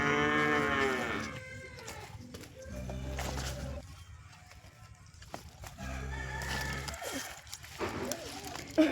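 Cows in a nearby village cowshed mooing, two long low calls a few seconds apart, with a rooster crowing faintly in the background and quiet outdoor ambience between.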